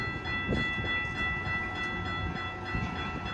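A Metra Milwaukee District North Line commuter train rumbles steadily nearby as it arrives at a station, low rolling wheel noise with faint rhythmic clatter and a thin high whine, no voices.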